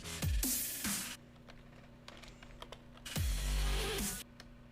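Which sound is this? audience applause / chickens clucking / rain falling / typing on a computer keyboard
typing on a computer keyboard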